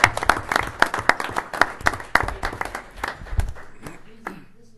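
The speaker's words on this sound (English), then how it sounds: "Everyone deserves a round of applause." Board members and volunteers at a village board meeting get a round of applause. Lively, close clapping starts loud and thins out over a few seconds, with voices talking through it.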